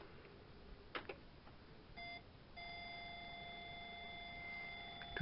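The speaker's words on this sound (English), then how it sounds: "got a continuous beeping sound" A restored Amstrad CPC 464 Plus computer, with its tape deck running, gives a continuous electronic beep: a steady faint tone that holds to the end after a few clicks and a brief earlier beep.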